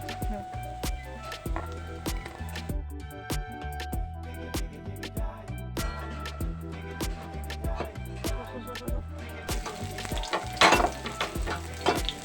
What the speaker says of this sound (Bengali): বড়াগুলো লাল লাল করে ভাজা হয়ে যাওয়ার পর সেগুলোকে একে একে তুলে নেব।